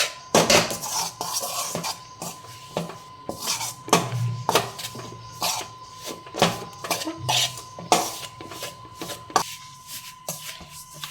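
A spoon scrapes and clinks rhythmically against a pan while stirring milk peda mixture off the heat, the metallic knocks sharp and close with a faint steady hum beneath.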